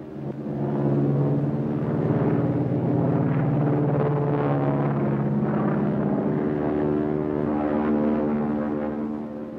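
A propeller-driven land plane drones steadily in flight, its engine humming as a loud, continuous, throbbing tone with no voices.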